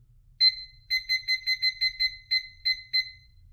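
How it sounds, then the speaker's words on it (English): A kitchen-style digital timer gives a single beep, then a quick run of about nine sharp, evenly spaced electronic beeps while being set for ten minutes, close and clear against near silence. "I'm going to set my timer for 10 minutes."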